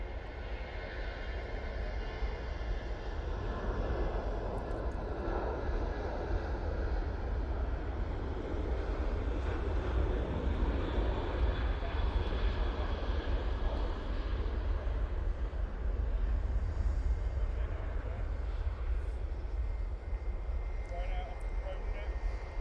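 A Ryanair jet at Manchester Airport, bound for Bologna, rumbles and roars steadily at a distance for over twenty seconds, with faint intermittent sounds in the background.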